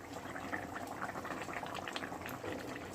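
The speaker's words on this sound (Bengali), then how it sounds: "আমার বেগুন আলু টমেটোর বলক উঠে গেছে" A pot of fish curry with eggplant, potato and tomato bubbles at a steady boil, a continuous close, moderately loud gurgling and popping with no talking.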